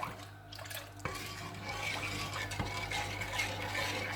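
Creme caramel fruit pudding mixture stirred smoothly in a bowl, a soft, steady liquid swishing with faint clinks of the utensil, close and quiet.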